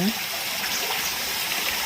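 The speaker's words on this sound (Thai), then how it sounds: "เสียงน้ำตก" A small waterfall spilling into a little pool with flowing stream water, a steady close rushing and splashing wash that continues without break throughout.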